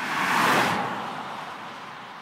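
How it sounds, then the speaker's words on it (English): A car passes close by with a rising whoosh of tyre and engine noise that peaks early and then fades away into a steady background hiss. "Here comes a car."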